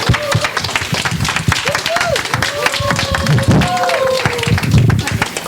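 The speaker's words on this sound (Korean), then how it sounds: "박수로 맞아 주십시오" An audience at an Atomy company meeting claps to welcome a speaker to the stage: steady, fairly loud applause with voices calling out above it throughout.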